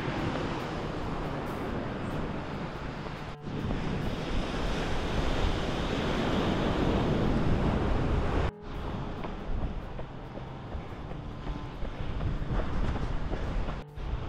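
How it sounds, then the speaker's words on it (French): Strong wind buffets the microphone over the steady roar of surf on the Brittany coast facing the island of Groix, a continuous gusty rush with two brief dropouts. "Un peu de vent mais on a une belle vue dégagée"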